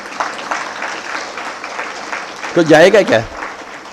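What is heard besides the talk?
audience clapping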